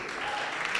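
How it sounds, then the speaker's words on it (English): Steady, fairly faint audience applause at a science and technology innovation challenge closing ceremony, a brief continuous wash of hands clapping. "Let's keep the hands rolling, please."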